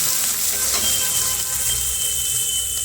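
Onions hit hot oil with cumin seeds in a pan and are stirred as they fry, giving a steady, loud, close sizzle and hiss with faint scraping of the stirring, no voices.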